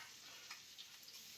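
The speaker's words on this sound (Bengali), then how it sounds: "পেঁয়াজ ভাজা হচ্ছে, পেঁয়াজগুলো ভাজা হোক আস্তে আস্তে।" Onions frying slowly in oil with bay leaf in a pan, heard as a faint, steady sizzle with a few small crackles and pops, and no voices.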